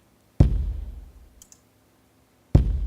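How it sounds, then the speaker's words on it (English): A wooden board hit used as a kick drum sample, slightly distorted: two hard, booming wooden thuds land about two seconds apart, each with a short ringing tail, close and loud with silence between. "It's the wooden board hit sound,"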